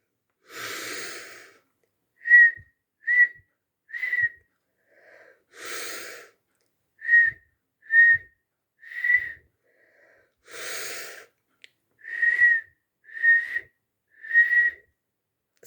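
Children's breathing exercise with whistling: soft breathy exhalations alternate with series of short, clear whistled notes, about three per group, repeated in a steady rhythm, close and fairly quiet with no talking.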